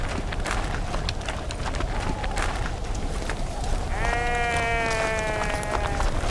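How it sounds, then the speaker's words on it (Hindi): Sheep bleat during a wolf attack, a wavering bleat rising near the end over a steady noisy bed of scuffling and commotion. "भेड़ियों ने हमला किया और भेड़ों को चीर फाड़ डाला।"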